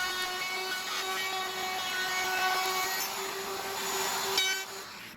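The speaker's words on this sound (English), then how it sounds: "Then I can route the housings in 2 passes" Router fitted with a flush trimming bit cutting shelf housings in scrap wood using a jig, a steady high-pitched motor whine with cutting noise throughout, close and alone.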